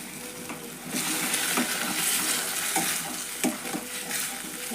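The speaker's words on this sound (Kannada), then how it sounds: "ನೋಡ್ರಿ ಈಗ ಕುದೀತು ನೋಡ್ರಿ ಪಲ್ಯ" Avarekalu palya, a field bean curry, bubbles and sizzles in a pot, with steady frying hiss and occasional stirring clinks against the pan.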